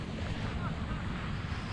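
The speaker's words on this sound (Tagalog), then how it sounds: "Ay, ang lakas ng hangin." Strong wind at a beach buffets the microphone with a loud, rumbling roar, with hints of water in the background.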